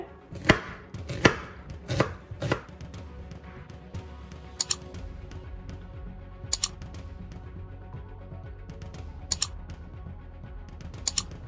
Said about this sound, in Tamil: வெங்காயத்தை ரவுண்டாக பொடியாக கட் பண்ணிக்கோங்க